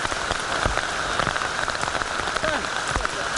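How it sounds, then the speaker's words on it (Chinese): A heavy summer afternoon thunderstorm pours down on the Tonghou mountain trail in Taiwan. The rain is a dense, constant roar of drops striking the surfaces nearby, with a few heavier splatters in it. "下起这个大雨，午后雷阵雨，应该夏天典型的一个气候"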